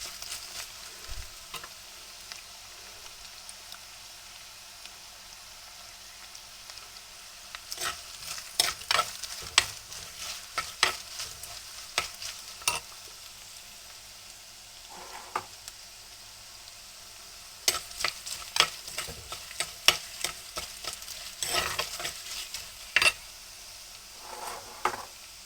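Chili powder fries in a hot, smoking clay pot as a spoon stirs it. Quiet sizzling runs throughout, broken by bursts of brisk scraping and knocking strokes against the pot, close by and with no voices.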